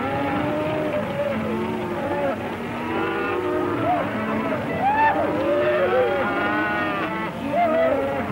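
A herd of cattle lows and moos continuously, many overlapping calls rising and falling, some near and some farther off, with a steady rumble of movement underneath.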